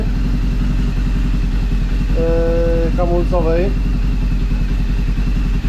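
A BMW R 1200GS motorcycle engine runs unevenly with a steady close low throb, a short tonal whine rising partway through, while someone talks over it.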